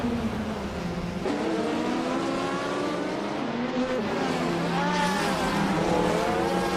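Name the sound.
race cars driving in a racing video game, 1982 Ford Mustang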